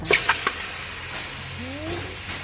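Pork hock (pata) dropped into a hot pan with garlic: a burst of sizzling and hissing at the start, a few sharp crackles, then a steady frying hiss that continues throughout.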